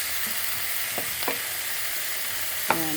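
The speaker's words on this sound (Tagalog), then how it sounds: "Ganyan po ako magluto ng steak." Beef steak with onion frying over a high flame, a constant hiss of sizzling oil with a few brief clinks of a utensil stirring against the pan.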